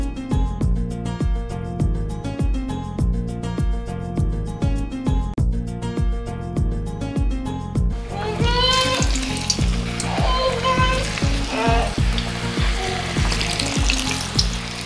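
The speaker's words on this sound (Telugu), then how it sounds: "మనం చేసిన మిశ్రమం స్టఫ్గా పెట్టేసి డీప్ ఫ్రై చేసేయాలి" Papad rolls stuffed with boiled potato filling deep-fry in hot oil, a steady close sizzle and bubbling that continues throughout, with rhythmic background music in the first half and no talking.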